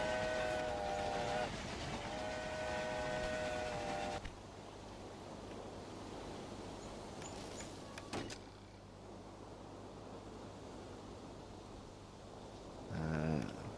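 A train runs along a busy line in the Railway Empire game's Great Britain and Ireland setting: tonal, horn-like notes open the passage, then a steady rolling rumble with a low drone continues, closing on a brief louder burst.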